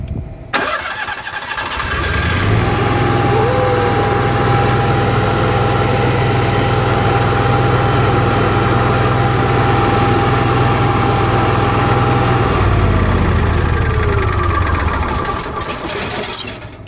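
An Onan 5500 Marquis Gold generator, fitted with a new fuel pump, cranks and catches, then settles into a loud, steady running drone for about ten seconds before the pitch shifts near the end.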